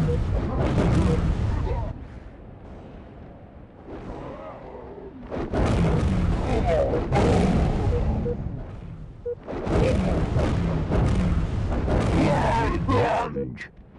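Booming blasts and explosive rumbles erupt repeatedly in a Halo Grifball match as bombs go off, loud and close, amid game announcer voice lines and bursts of action.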